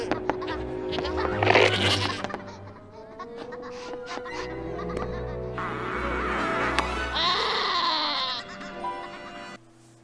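A cartoon goat in the animated film The Hunchback of Notre Dame 2 gives loud, wavering bleats, close and prominent, mixed with other bright animated-soundtrack sounds.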